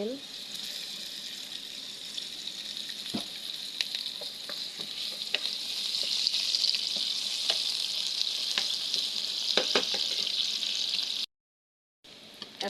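Onions and green chilies fry in hot oil in a wok, giving a steady close sizzle with occasional clinks and scrapes of stirring; the sizzle grows slightly louder midway, then cuts out briefly near the end.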